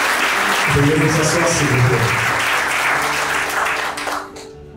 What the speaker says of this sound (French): je vous prie de faire un tonnerre d'applaudissements.